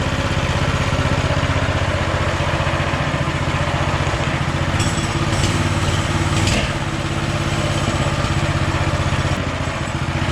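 A minibike engine running on campfire stove fuel, idling high and steady nearby with a continuous buzzing drone and slight fluctuations, no voices.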